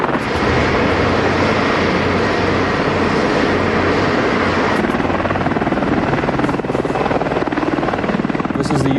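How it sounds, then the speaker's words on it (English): U.S. Army AH-64A Apache attack helicopter in flight, a loud continuous rotor drone and turbine roar with a steady chopping pulse, close and unbroken for the whole stretch, with a narrator talking over it. "H-64A Apache helicopter, the #1 attack helicopter in the world today."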